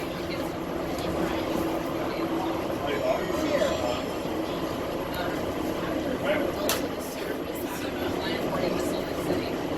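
Steady rumble and hum of the Atlanta airport Skytrain people mover in motion, heard from inside the car as a continuous moderate drone with faint rattles, while someone talks.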